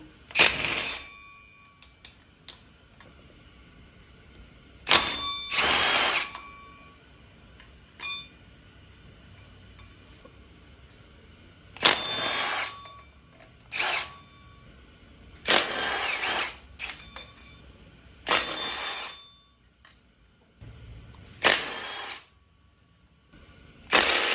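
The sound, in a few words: power tool breaking loose Honda K20A water pump bolts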